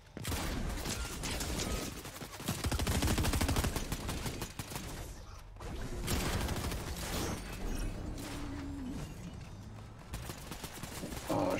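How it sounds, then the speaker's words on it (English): Fortnite gunfire, dense and continuous with rapid shots and bursts of automatic fire layered over game effects, loud throughout with no clear speech. "Shit, I'm getting shot by somebody else."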